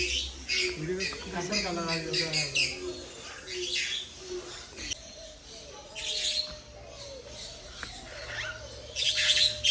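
Several birds, including pigeons, squawk, chirp and coo from close by in a netted aviary, while people talk among them.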